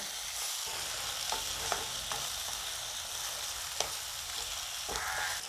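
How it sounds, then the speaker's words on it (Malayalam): Onions and tomatoes sautéing in a pan for a brinjal curry, a soft continuous sizzle broken by occasional stirring scrapes and taps, quiet and close with no voices. "ഇനി ഈ തക്കാളിയും കൂടെ നന്നായിട്ടൊന്ന് വഴന്നോട്ടെ"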